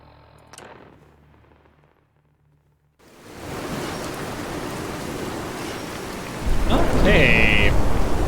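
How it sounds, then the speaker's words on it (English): Heavy rainstorm in the Fallout 4 video game, a steady loud wash of rain that starts abruptly after a quiet stretch, with a deep thunder rumble swelling near the end. "Hey, a little storm going on here."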